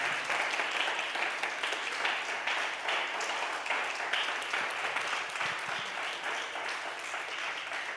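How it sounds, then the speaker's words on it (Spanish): Loud, sustained applause from a church congregation during a worship service, dense steady clapping that continues at an even level for the whole stretch with no voices on top. "Dele ese aplauso fuerte al Señor"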